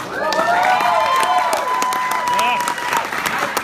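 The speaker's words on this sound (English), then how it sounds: "give a round of applause to Geraldo" Convention audience applause with cheering, loud and sustained many-handed clapping close by, with whoops and shouted voices rising over it.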